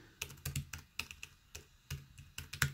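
Typing on the small keyboard of a GPD Pocket 2 pocket laptop: a close, quiet run of irregular key clicks with short pauses, some keystrokes sharper than others, and no talk over it.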